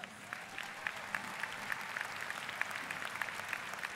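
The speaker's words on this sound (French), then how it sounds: "Je pense qu'on peut l'applaudir parce qu'on n'a pas assez applaudi tout à l'heure" Audience applause at the Longines Masters de Paris show jumping event, a steady patter of many hands heard from some distance, fairly faint and even throughout with a few sharper claps standing out.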